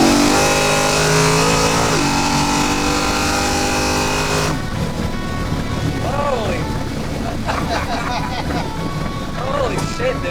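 A nine-second Chevelle street race car accelerates hard, its engine roaring loud and close for the full stretch, the pitch climbing and shifting as it pulls through the gears.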